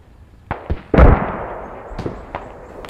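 Gunfire in the Squad video game, several sharp cracks and bursts scattered over a few seconds, one heavier loud blast near the start with a decaying tail, then fainter distant shots.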